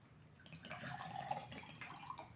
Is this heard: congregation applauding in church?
no